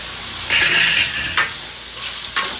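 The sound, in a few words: stirring Nellore-style fish curry with tomatoes and salt in a pot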